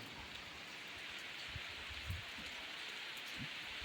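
Steady rain falls on a farm path turning muddy, with water starting to run, a soft even hiss with occasional nearby drops and splashes and no one speaking.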